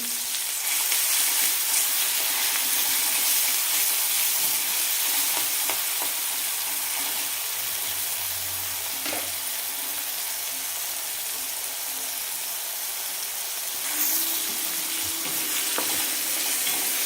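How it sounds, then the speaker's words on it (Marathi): Green chili thecha frying in oil in a pan, giving a steady, loud sizzle that runs throughout with occasional soft stirring scrapes. No one speaks. "हिरव्या मिरचीचा हा ठेचा तो टाकून घेतो आणि त्याला पण एक अर्धा मिनिट फक्त परतून घ्यायचं आहे तेलामध्ये"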